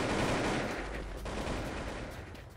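Dense, sustained automatic gunfire from an AK-47 in the shooter game Blood Strike, a loud, continuous stream of rapid shots with no talking.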